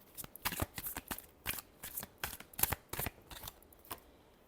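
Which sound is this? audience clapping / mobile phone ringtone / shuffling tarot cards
shuffling tarot cards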